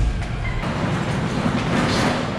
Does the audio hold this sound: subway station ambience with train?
yes